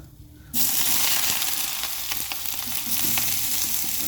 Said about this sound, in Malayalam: എണ്ണ ചൂടായി, ഉള്ളി ഇട്ടു,